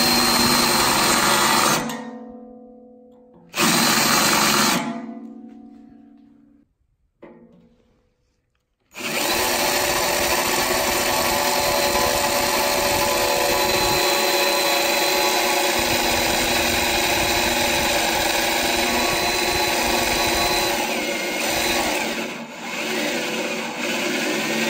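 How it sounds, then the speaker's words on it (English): Drill with a step bit boring into metal on a John Deere 1025R tractor, a loud steady grinding whine that starts and stops a few times before running continuously for a long stretch. "I'm just going to use an 1/8-inch bit just to put a little dimple into the metal before I start using the step"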